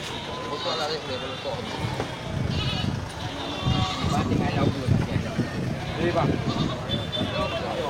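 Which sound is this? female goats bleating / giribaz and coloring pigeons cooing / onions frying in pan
female goats bleating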